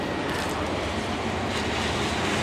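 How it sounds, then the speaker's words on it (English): A train rolls through a town in Cheyenne, Wyoming, making a steady, loud broadband rumble that fills the whole stretch without a break. "So we get to see the train go through."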